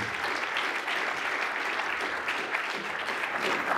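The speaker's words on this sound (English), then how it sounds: "I'm always nervous when people clap at the beginning of a talk." Steady, dense applause from a lecture audience welcoming a speaker, loud and continuous throughout with no pauses.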